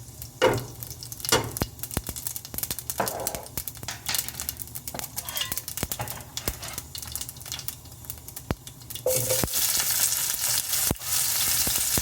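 Fennel, cumin and mustard seeds sizzle and crackle in hot oil, with sharp pops scattered through the frying and a louder, denser hiss near the end.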